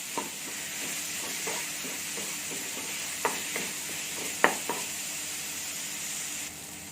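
Tomatoes and onions sauté in a pan for South Indian tomato chutney, giving a soft, steady sizzle. A spoon scrapes and taps against the pan now and then, with sharper knocks near the middle.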